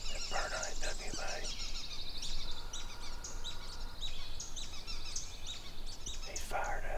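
Wild turkey gobbling during a spring hunt in Alabama: several rough, rattling gobbles carry from a distance over steady outdoor background noise, with faint bird chirps in between.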